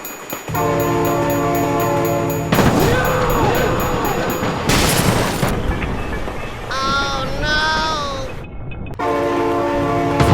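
Train roaring past in a BeamNG driving simulation, sounding long, loud blasts of its horn that drop in pitch, with crashing noises and a brief shrill squeal partway through, all close and dominant.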